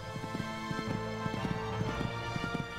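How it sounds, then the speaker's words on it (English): A horse gallops in the video game Horse Olympics, with steady rhythmic hoofbeats of three- and four-beat clusters repeating across the stretch, moderately loud under faint background sound. "And galloping along nicely now."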